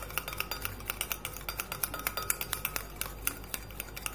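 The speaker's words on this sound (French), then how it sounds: "On continue de mélanger." Cosmetic cream preparation being mixed in a container, turning opaque and orange, with a steady run of light clicking stirs and faint clinks of a utensil against the vessel, close and quiet, no talking.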